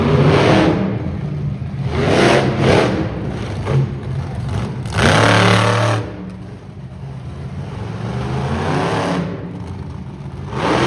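The Spitfire monster truck revs at an arena motorsports show in Saskatoon, loud repeated bursts of engine roar with pauses between them, backed by a big crowd ambience.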